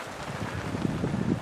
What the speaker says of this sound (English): The wind's come up